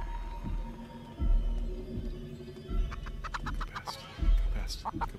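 Video game chicken clucking in Chicken Feet, a few short bursts of clucks and squawks over a low rhythmic game background, with a voice talking nearby.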